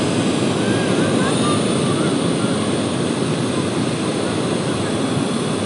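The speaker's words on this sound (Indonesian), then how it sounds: "kita boleh tes dulu, mundur, maju ya untuk memastikan drone-nya berfungsi" A drone tested at a beach, flying backward and forward, giving a steady, loud rotor buzz that fills the whole stretch with little change.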